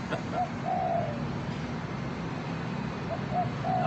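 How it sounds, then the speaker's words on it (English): Pigeons or doves cooing from a perch above, soft repeated coos at the start and end over steady outdoor background noise. "they're making a little cooing sound"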